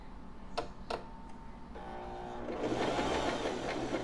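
A sewing machine stitching a zigzag pattern during a first sewing session at home: a few faint clicks, then the motor whirs up and runs steadily with a rapid rattling stitch, close and moderately loud.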